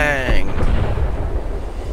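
A single loud buckshot blast from a hunting shotgun in Fallout: New Vegas, a close, heavy boom that rolls off into a low rumbling decay.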